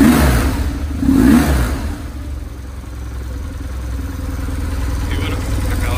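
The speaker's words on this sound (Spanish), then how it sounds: "el motor suena muy bien" A BMW R1150 R motorcycle engine revs up in a couple of loud bursts, then settles into a rough, throbbing idle nearby.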